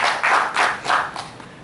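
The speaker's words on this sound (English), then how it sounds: "Please, another round of applause for him" Short burst of applause at a university banking and finance department event, a few uneven waves of clapping that fade quickly.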